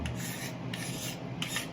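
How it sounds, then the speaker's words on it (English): Repeated rasping strokes scrape across an old wooden tool handle during restoration, about three passes in a steady back-and-forth rhythm, close and fairly quiet. "But it's just all scraping right up."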